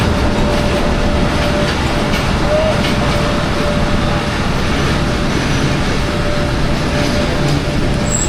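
The Jaffar Express rumbles loudly at Fakirabad, a dense, steady roar of wheels and carriage noise that goes on without letting up, with a faint thin squeal running through it.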